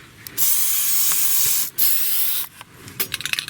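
Loud hissing bursts of aerosol rustproofing spray applied to a vehicle undercarriage, two long continuous blasts followed by several short quick sprays.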